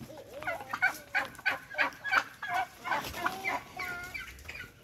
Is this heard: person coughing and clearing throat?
no